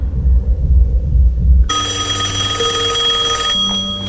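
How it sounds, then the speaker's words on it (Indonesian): A telephone rings inside a room, its electronic tone starting abruptly after a low rumble and holding steady, loud and close, with no speech. "deringan telepon yang berada di dalam kamar tersebut"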